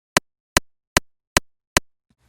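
Five sharp, isolated kick drum clicks, soloed on a parallel channel. They are evenly spaced, very short and dry, with silence between hits.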